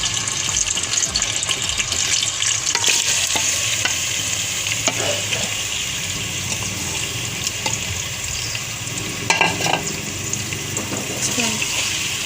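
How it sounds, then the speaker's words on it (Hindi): Marinated bone-in beef pieces for karahi fry loudly in hot oil, a dense continuous sizzle and crackle with stirring scrapes, close and steady throughout. "अब हम इसमें ये मसाला जो लगा हुआ गोश्त था 2 घंटे के लिए हमने रखा था, ये मैंने हड्डी वाला गोश्त रख दिया,"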